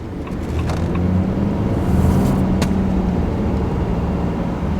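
A 2025 RAM 2500 Night Edition pickup truck's engine accelerating, a low, steady drone that swells in volume and holds near and loud, with faint interior rattles over the top.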